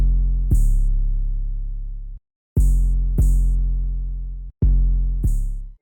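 Trap beat of long, loud 808 bass notes, with a very quiet open hi-hat layered beneath some of them, giving a brief bright hiss at each hit; no talking.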